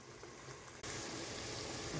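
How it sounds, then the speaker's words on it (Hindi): Carrots and potatoes frying in a pan start with a sudden hiss of sizzling that jumps in loudness and then holds steady and close, with no voices. "चलें अब हम इनको अच्छे तरीके से इस तरीके से फ्राई कर लेते हैं।"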